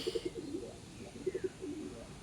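Soft, low racing pigeon coos come in short rhythmic clusters, twice over, faint and a little distant against quiet outdoor background noise.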